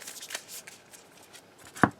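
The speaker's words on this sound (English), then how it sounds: "And we again shuffle." Deck of trading cards for the Avatar Weiss Schwarz game being shuffled by hand, giving soft riffling bursts across two seconds that end in one sharp tap, close and quiet with no voice.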